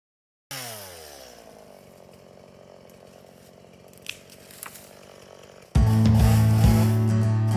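A chainsaw starts up and idles with a buzzing rattle, then revs hard into a loud, steady roar as it bites into wood.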